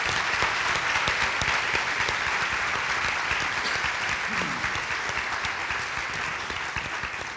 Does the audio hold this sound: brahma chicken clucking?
no